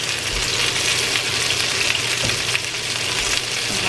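Gochujang chicken pieces frying in a pan on a home stove, a loud continuous sizzle with constant crackling pops up close, no talk.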